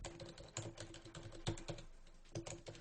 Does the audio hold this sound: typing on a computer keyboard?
yes